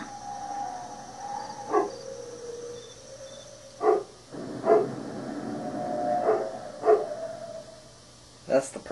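A dog in a video game barks in short sharp bursts and draws out a long, wavering howl alongside a siren-like tone, with game sounds in the background.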